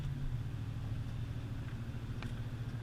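A truck engine held at a little above medium throttle with the temperature coming up and good oil pressure, a steady low droning rumble that continues unbroken and fairly loud, with no voices.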